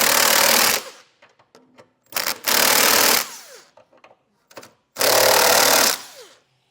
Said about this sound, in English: we can snug it down using a 3/4 inch socket